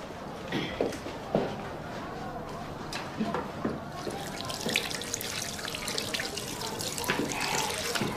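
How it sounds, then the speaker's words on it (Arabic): A tap runs steadily into a sink as someone washes their hands, the splashing growing brighter and fuller partway through, with a few knocks and a voice speaking faintly behind it. "ممكن نخش نغسل ايدي؟"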